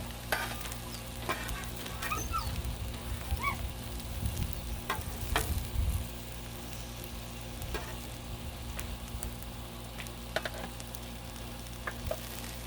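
Mushrooms frying on a griddle, a steady close sizzle with occasional spatula scrapes and taps, under a low humming background.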